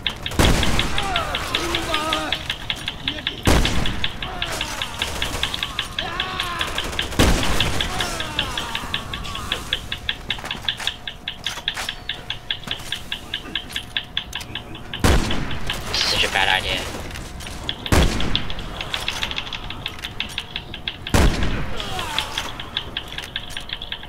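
Gunfire in Resident Evil 6 on a rooftop, with loud sharp shots and bursts spaced every few seconds over a busy background of rapid mechanical clatter and game sounds, with speech in places.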